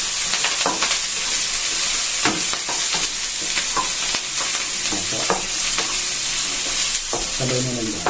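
Onion and garlic fry in oil with a bright, dense sizzle, interrupted by repeated scraping stirs of a utensil against the pan, close up and steady throughout.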